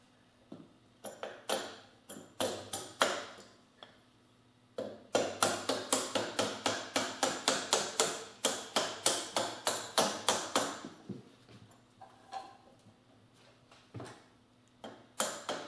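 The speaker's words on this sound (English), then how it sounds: "And slip the adjuster over the swing arm notches. Just tap it through." A chain adjuster is tapped onto the swing arm of a Yamaha YL1 motorcycle. Sharp metallic taps come in a few sparse groups, then a long, fast, steady run of hits, close up in a quiet room.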